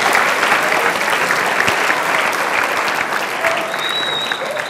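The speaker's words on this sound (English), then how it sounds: "give them another round of applause" Sustained crowd applause at a talk on inclusivity and diversity, honoring students and teachers at an education event, loud and continuous and easing slightly near the end.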